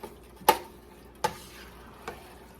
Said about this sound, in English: And I'm still stirring.